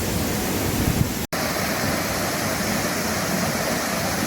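Twin Falls near Jasper, Arkansas, pours down as a constant loud rushing roar of falling water, heard close and steady with one momentary dropout.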